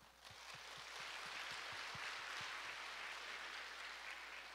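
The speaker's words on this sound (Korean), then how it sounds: "동산의 가족이 되신 분들께 마음을 담아 박수로 환영하겠습니다" A church congregation at a Sunday morning service applauds to welcome new members, a soft, distant, diffuse patter of many hands with a few closer claps early on.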